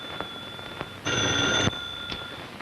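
A 1940s telephone bell rings once in a single loud half-second burst over a low hiss and faint background noises.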